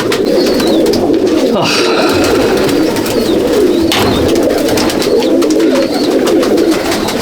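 Pigeons coo repeatedly in low, rolling calls inside a pigeon loft, with higher chirps of other birds mixed in against a steady, busy background.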